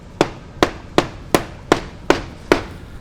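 Seven evenly spaced sharp metallic taps on a motorcycle exhaust being repacked, about one every 0.4 seconds, each crisp and close with a short ring.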